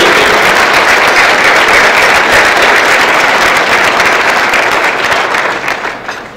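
Sustained applause from an evening award-ceremony audience thanking faculty at the 2010 Mines Medal event: full, even clapping that holds steady for several seconds, then thins and fades near the end.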